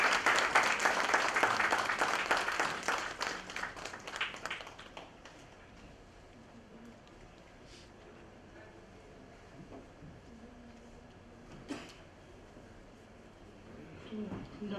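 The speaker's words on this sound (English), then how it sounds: "A round of applause" Applause at a CSR awards conclave during a memento presentation, a burst of clapping that is loud at first and fades away within a few seconds, leaving a quiet room with faint murmurs and small noises.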